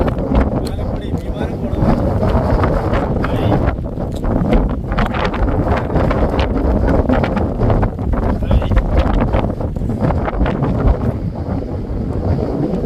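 Strong wind roars and buffets steadily against the microphone at a wind farm in Idukki, a loud, continuous rumbling gust throughout.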